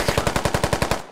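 Machine gun firing a rapid burst of about ten evenly spaced, loud, close shots in a video game shooter, ending with a brief tail.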